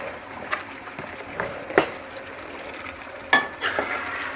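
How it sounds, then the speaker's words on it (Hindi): Chopped vegetables stir-fried in masala paste in a pan for halwa kaddoo, with a spoon scraping and stirring in a few separate strokes over a soft background sizzle. "और इसे मसाले के साथ अच्छे से भून लेंगे ताकि जो मसाले का फ्लेवर है वो भी सब्ज़ी के अंदर ऐड हो जाए।"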